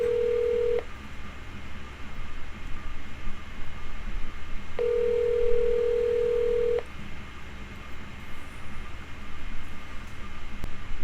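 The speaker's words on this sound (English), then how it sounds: "Calling Tiffany Hartman on speaker." Phone call placed on speakerphone through Siri: long, even ringback tones sound twice with a pause between them, over a faint background hiss.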